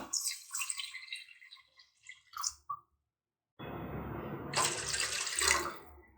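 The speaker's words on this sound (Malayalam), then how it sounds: "ഇനി ഇതിലേക്ക് ആവശ്യത്തിന് വെള്ളം ഒഴിച്ചു കൊടുക്കാം" About one and a half cups of water pours in a steady splashing stream into a pan of potato-capsicum curry after a few earlier drips and sloshes, close and clear.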